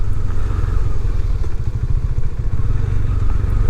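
A KTM 390 Adventure single-cylinder motorcycle being ridden on a test ride in extreme weather, a loud, close, rapid low engine thump with a steady chuffing pulse and some wind rumble.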